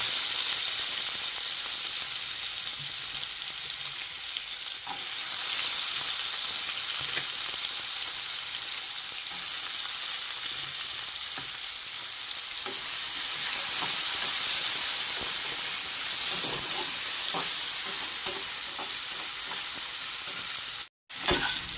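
Potatoes frying in a pan, a steady broadband sizzle running throughout at even loudness with occasional stirring scrapes, close and alone with no talk.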